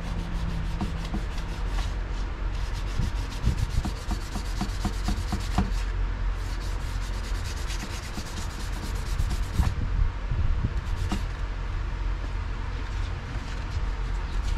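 Sandpaper worked by hand over Corvette C6 dashboard trim gives a steady, close scratching rasp in continuous back-and-forth strokes, with no voices.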